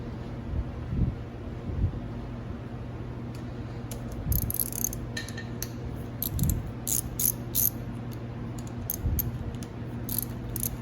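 Bolts being worked loose with a ratchet on the brake lever clamp of a Kawasaki KX 125 motorcycle, quiet repeated clicking and light metallic tinkling over a low steady hum, close by and with no talking.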